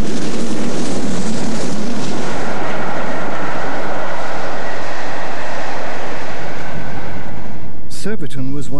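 Southern Railway locomotive Sir Eustace Missenden hauls a down Bournemouth service on the former LSWR main line near Waterloo, a loud sustained roar of a passing train close by, and speech breaks in at the end.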